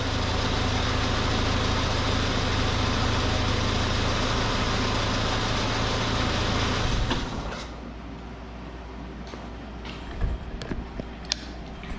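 A 1979 Chevy LUV pickup engine idles with a steady, loud rumble for about seven seconds, then cuts off, leaving a quiet background with a few faint clicks and knocks.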